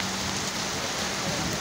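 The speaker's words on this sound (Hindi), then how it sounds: "तेज़ हवाओं के साथ तेज़ बारिश का आगाज़ हो चुका है" Heavy rain driven by strong winds pours down in Murree, Pakistan, making a loud, dense and continuous hiss with no pauses and no voices.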